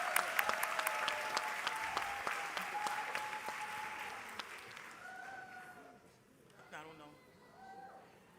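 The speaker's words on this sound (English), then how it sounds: "Let's give them all a round of applause." Applause for congressional candidates at a Congressional District 24 town hall meeting, a moderate, scattered round of clapping from the audience that thins out after about four seconds as voices and talk take over.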